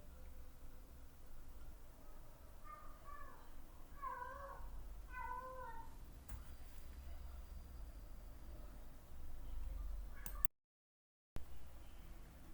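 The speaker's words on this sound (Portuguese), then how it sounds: "Vocês devem ter ouvido um barulho estranho, parecia um gato agoniado." A cat cries in distress outside, giving a short run of wavering, drawn-out meows that sound faint and distant over a quiet background hiss.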